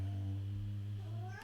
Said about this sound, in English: Hi cat, can you go away?